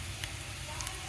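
Ginger garlic paste sizzles in a pan with chopped onions, a soft, steady crackle that holds evenly at low volume throughout.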